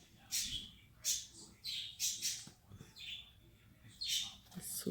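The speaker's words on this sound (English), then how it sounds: "He hears the birds." Birds chirping near a baby cockatiel indoors, a series of bright, repeated squawky chirps at moderate volume with brief pauses between them.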